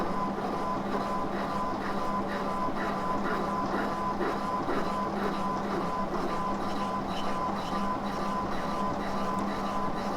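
Boring machine cutting a piston in a workshop, a steady loud droning grind with fine rhythmic chatter and a constant hum, unbroken for the whole stretch.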